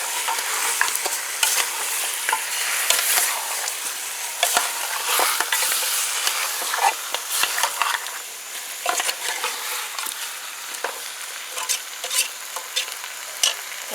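Beef stew with potatoes being stirred in a pot on slow heat, with steady frying sizzle throughout and a continuous run of scraping, clattering spoon strokes close by.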